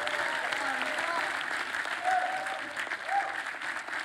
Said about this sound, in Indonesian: Tepuk tangan dulu waktu habis.